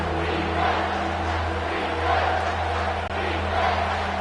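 Stadium crowd noise in the College Football 25 video game, BYU vs Utah, a steady loud roar building behind the defense in the red zone, with a low hum underneath and no talk.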